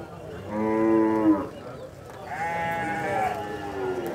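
Cattle at a livestock fair in Barra de Santa Rosa, Paraíba, giving two long, loud moos close by, each lasting about a second or more, separated by a short pause over faint background murmur.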